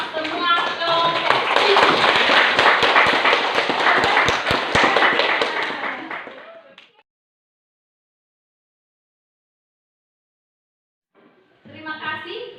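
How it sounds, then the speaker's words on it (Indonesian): A class of students in grade 12 applauds the groups that just presented, a dense burst of clapping lasting several seconds before stopping abruptly, followed by silence and then a brief return of voices. "Kita beri aplaus untuk semua kelompok."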